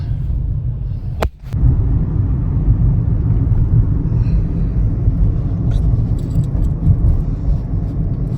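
A car on a Canadian road in winter rolls along with a steady low engine rumble and road noise. A sharp click is heard near the start and faint rattles come later, with no talk.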